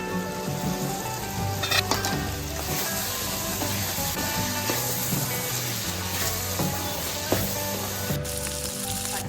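Macaroni masala sizzling in a pan as it is stirred, a steady close fry with occasional clinks and scrapes of the spoon against the pan, no voices.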